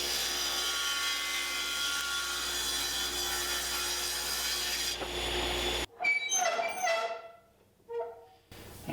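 Table saw blade cutting a dado slot through wood in a workshop, a loud continuous buzzing cut that drops off sharply, followed by the blade spinning down with scattered clatter.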